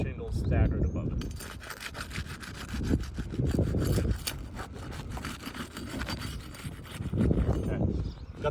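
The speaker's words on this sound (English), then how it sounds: "Now we're going to release the bonding strips from up top so that when we pull the shingle, we're not damaging the shingles above it." Roof shingle bonding strips being released with a flat tool, producing repeated rough scraping and rubbing strokes in uneven bursts, close and fairly loud.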